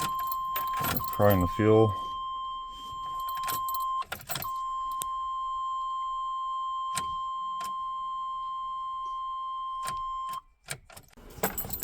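A 1997 Chevrolet Silverado 1500 with a newly replaced starter cranks in a short pulsing burst, then a steady electronic chime rings for several seconds, with someone speaking briefly nearby.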